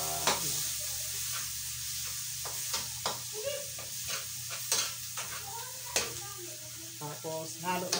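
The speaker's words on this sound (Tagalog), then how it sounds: "Igisa natin." Pakbet ingredients sauté in a pan, a continuous sizzle broken by repeated scraping stirs and clinks of the utensil against the pan, close and moderately loud.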